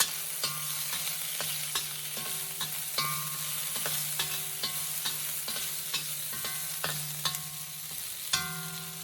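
Chopped garlic and julienned ginger fry in a pan with a constant close hiss, punctuated by regular spatula scrapes and taps as they are stirred, and no voices.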